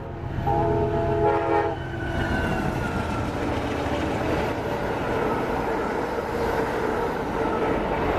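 A loud Amtrak train horn blares for about two seconds as emergency brakes are applied, then the heavy train keeps rumbling and roaring close by, steady and unbroken.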